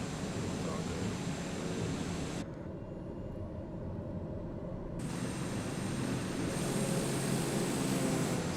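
Steady broadband roar of an airplane engine in Flight Simulator 2020 during a takeoff roll from Buffalo, continuous and loud throughout, briefly dulled midway before returning at full strength.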